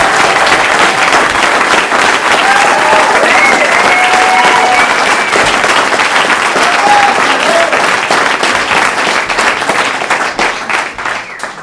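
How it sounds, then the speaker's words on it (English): A comedy club audience gives sustained, loud applause for comedian Orrin Star, with dense clapping continuing steadily and starting to thin out near the end. "Nice round of applause, Mr. Orrin Starr."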